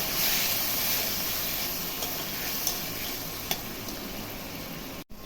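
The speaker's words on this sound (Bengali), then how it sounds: "লঙ্কা আর জিরাটা দিয়ে ভাজা ভাজা হয়ে গেছে" Steady sizzling of green chili and cumin frying in a hot pan, a continuous crackling hiss with a couple of faint clinks near the end.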